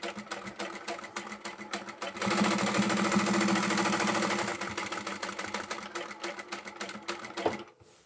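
A sewing machine stitching a fabric jar opener runs steadily near at hand, a fast mechanical whir that surges louder and smoother for a couple of seconds, then settles back into a rattling, uneven chatter before stopping.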